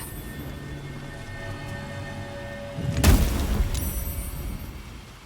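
A single explosion in the video game Baldur's Gate 3 bursts out suddenly after a quiet stretch, a loud broadband boom with a rumbling tail that slowly fades over a couple of seconds.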